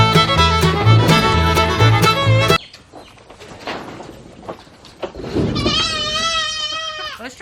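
A goat bleats loudly and close in a herd, a wavering cry near the end, preceded by loud music and rustling with faint talk in the background.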